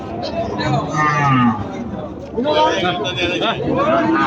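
A red calf moos loudly and drawn-out nearby at a cattle market in North Bengal, over a busy background of people talking and bargaining chatter.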